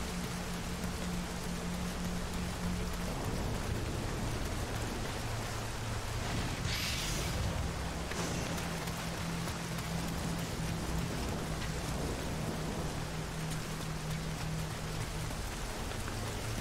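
Heavy rain hisses without a break during a thunderstorm in the video game Nioh, with a low rumble beneath it and a brief crackle partway through. Both sound fairly loud and stay constant for over fifteen seconds with no voices.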